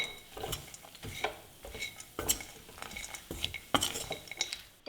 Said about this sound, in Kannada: ಈಗ ಒಣಕೊಬ್ಬರಿ ಪುಡಿಯನ್ನು ಹಾಕ್ತಾ ಇದ್ದೀನಿ. ಇದನ್ನು 1 ನಿಮಿಷ ಜಸ್ಟ್ ಲೋ ಫ್ಲೇಮ್ನಲ್ಲಿ ಈ ಥರ ಮಿಕ್ಸ್ ಮಾಡ್ತಾ